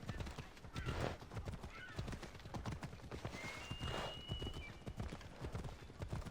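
Horse hooves clip-clopping at a steady trot in Assassin's Creed Odyssey, a brisk even rhythm of close hoof strikes on hard ground running throughout, with a brief whinny-like tone in the middle.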